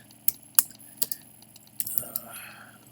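Typing on a computer keyboard: a few sharp, separate key clicks, then a quicker cluster of softer taps, close in a quiet room.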